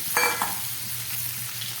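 Tomato pieces dropped into a pan of cauliflower and potato already fried with salt and turmeric, setting off a brief wet crackle that settles into a steady close sizzle of frying.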